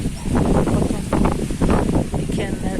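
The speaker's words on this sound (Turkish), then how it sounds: "Gene rüzgar savuruyor, çatıları götürecek vallahi" Strong wind roars and buffets the microphone in a steady, loud rush with gusty surges.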